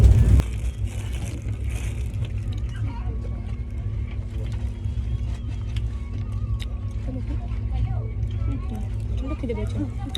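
Constant low rumble and rattle inside a moving train carriage, with occasional clicks and knocks, running under a person's quiet talking throughout.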